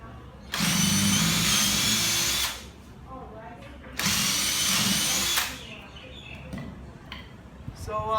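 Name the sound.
drilling holes in wooden nunchaku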